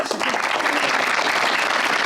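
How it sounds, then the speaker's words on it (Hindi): A television studio audience bursts into loud, dense applause for the full couple of seconds, a continuous close wash of clapping with little else heard. "वेरी गुड, तालियां यार।"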